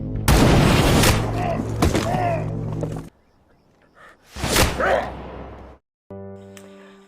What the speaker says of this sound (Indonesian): Di sini Brandon dan ayahnya kebingungan mencari sang sniper yang menembaki para petugas.